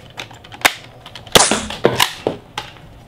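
Nerf Rival Curveshot foam blaster firing, a handful of sharp snapping shots spaced irregularly over a few seconds, close and fairly loud with no talking.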